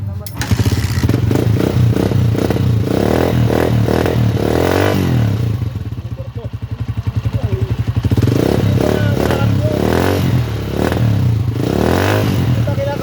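A motorcycle just back from an overhaul is cranked and fired, its engine clattering and revving loudly in rapid uneven bursts, close by, with a voice speaking over it.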